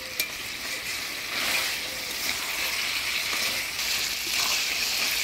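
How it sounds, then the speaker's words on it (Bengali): Boiled mutton is stirred into cooking spice masala in a pan, frying with a steady, fairly quiet sizzle and soft scraping of the stirring spoon throughout, in a village-style kitchen. "মাংস দিয়ে দিলাম এবং মশলার সাথে ভালো করে নাড়াচাড়া করে নিব।"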